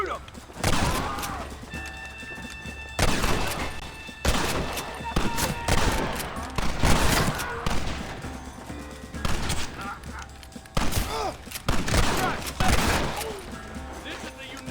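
Repeated bursts of gunfire in a Red Dead Redemption shootout, loud volleys and single shots cracking one after another across the whole stretch, with brief lulls between salvos.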